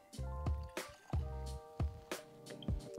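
Irish whiskey, a blended and pot still small batch, is poured from the bottle into a glass, a close series of gurgling glugs and drips in uneven bursts, with no talking.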